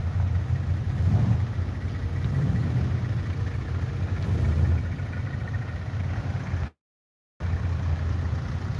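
American car engines rumble and idle steadily nearby as the cars roll away from a car show, a continuous loud mechanical drone broken by one brief cut to silence.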